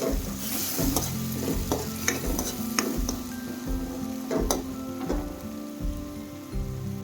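Spicy chana leaf curry bubbles and sizzles steadily in a pan, a constant close frying hiss with irregular pops and stirring clatters throughout, no voices.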